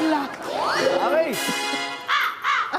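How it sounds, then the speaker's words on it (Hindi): A crow caws a few times, loud and near, mixed with a voice and a short burst of other sound on a TV comedy show set. "मुझे लगता है कौवा जो है करीबी दरख्त पे रहता ये है।"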